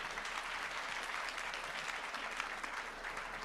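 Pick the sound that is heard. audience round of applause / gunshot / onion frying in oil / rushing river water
audience round of applause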